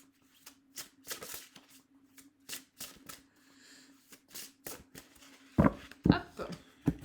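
Tarot or oracle cards shuffled and drawn by hand for a spiritual card reading: a run of crisp riffling and flicking bursts, close and fairly quiet, growing louder with a few sharp slaps near the end.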